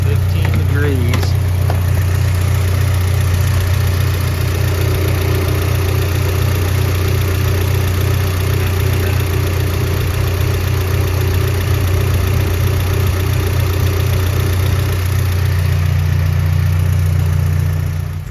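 A Honda Civic engine idles steadily after a timing adjustment, a loud, even mechanical drone with a constant low hum that holds unchanged throughout, close to the listener.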